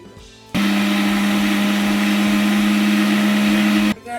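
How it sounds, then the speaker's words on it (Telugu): A kitchen mixer grinder grinds betel leaves with lime into a henna paste. It makes one loud, steady whirring drone that starts abruptly, holds for about three seconds and then cuts off. "ఇప్పుడైతే మిక్సీ పట్టేసుకుందామండి"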